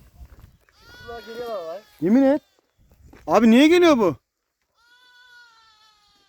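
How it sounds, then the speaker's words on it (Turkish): A young lamb in a sheep flock bleats loudly twice in close range, wavering cries between stretches of conversational talk, with a fainter bleat trailing at the end. "Yavru daha hala bağırıyor bize."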